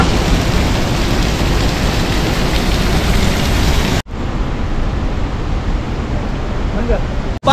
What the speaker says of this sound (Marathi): पाण्याचा फोर्स बघा खतरनाक आहे पाण्याचा फोर्स